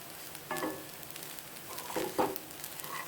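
Spring onions go into a pan of sizzling Indian-style vegetable fried rice, giving a soft, steady frying hiss with a few louder stirring bursts near the start and in the second half.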